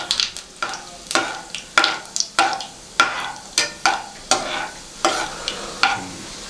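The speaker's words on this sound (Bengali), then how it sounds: "এবার একে ভালো করে একটু 2 মিনিট নাড়াচাড়া করে নেবো" Spices stirred in hot oil in a pan, a rapid series of about a dozen crisp spatula scrapes and clacks in a quick, even rhythm over a light sizzle, close and loud, with no one speaking.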